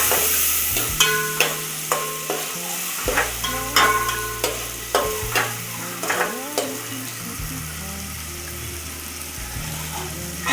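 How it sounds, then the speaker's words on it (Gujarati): A spoon scrapes in rhythmic strokes through a tomato tempering frying in a pan for a Gujarati corn shevdo, close and steady over a continuous sizzle, with no talking. "આપણે હલાવી નાખીએ."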